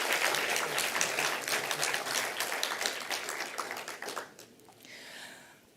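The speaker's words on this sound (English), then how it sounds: "Let's just give him another round of applause," A crowd applauds steadily at a university research chair launch with dense clapping, fading out toward the end as it dies down.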